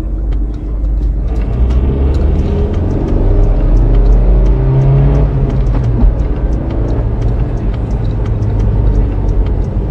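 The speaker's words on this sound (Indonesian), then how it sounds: "Oke, sekarang kita coba gimana ya akselerasi di mobil ini, apakah bagus atau bertenaga nggak atau biasa aja." A 2011 Suzuki APV accelerates, heard from inside as a loud continuous engine rumble and road roar that climbs in pitch as the van gathers speed, with faint ticks and rattles over the drone.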